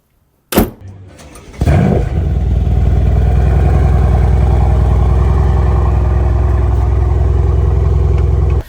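A Mercedes-AMG C63 sports car fires up with a sharp loud bark, then settles into a deep, loud rumbling burble as it pulls away, the engine close and continuous for several seconds.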